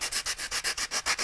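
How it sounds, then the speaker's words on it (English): A small sanding block rubs back and forth by hand over a wooden axe wedge, about a dozen even, rhythmic strokes close up with no other sound. "I like to just take my little sanding block"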